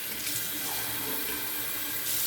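Tap water runs steadily into a sink to warm it before a wet shave, a continuous close splashing rush with no talk.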